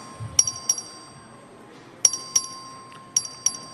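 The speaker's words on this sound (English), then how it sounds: "The clerk will ring the bell." In the Texas House chamber, an electronic bell for a record vote gives short bright chimes, struck in clusters of two or three with pauses between them.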